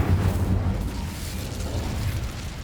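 A fire spell cast in Hogwarts Legacy erupts as a deep, rumbling whoosh of flame, loud at first and then settling into a steady burning roar.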